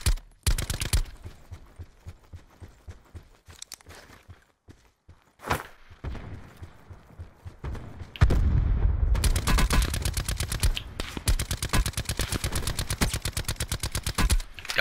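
Rapid bursts of automatic gunfire in the Call of Duty Blackout battle royale, loud and close, start with scattered shots and settle into a sustained stream of fire through the second half.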